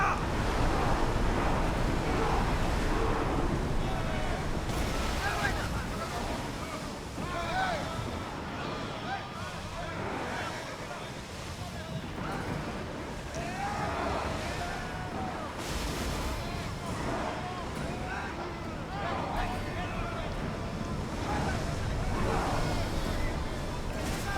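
A ship sails through rough waves in the video game Assassin's Creed Odyssey, with a steady wash of surf and wind roaring at high speed, and a voice talks over the continuous rushing.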